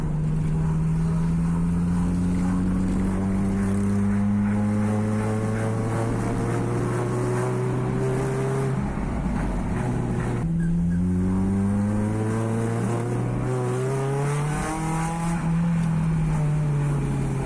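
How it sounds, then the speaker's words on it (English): A Honda K-swap engine with VTEC revs hard and loud through rising and falling pitch sweeps, its raspy 3-inch exhaust roaring continuously, dipping briefly before climbing again. "That 3-inch exhaust is very loud"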